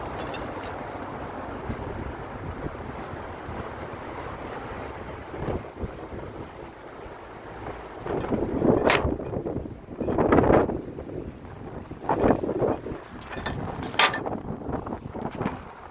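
Strong wind in Germany buffets the microphone in heavy, rumbling gusts that swell louder in the second half.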